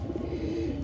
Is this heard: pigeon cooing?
yes